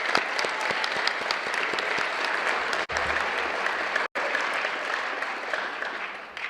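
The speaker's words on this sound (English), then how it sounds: "let's have another round of applause for the cadets here tonight." An audience at a high school JROTC change of command ceremony gives the cadets a round of applause, continuous even clapping from a sizable crowd with two brief dropouts midway.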